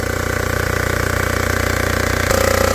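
Surfacing machine cutting a Prius cylinder head, giving a steady, loud mechanical grinding drone with rhythmic pulsing, close by; the pitch shifts slightly near the end as the cutter moves across the head.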